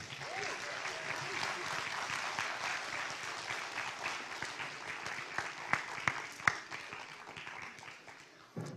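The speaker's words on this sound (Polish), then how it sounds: "Brawa!" Audience applause at a Christian music festival, quieter and somewhat distant, with scattered sharper individual claps becoming audible as it thins out near the end.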